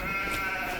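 A baby goat in Farming Simulator 25 gives a single short, bright bleat that sits close and clear above a steady in-game ambient hum.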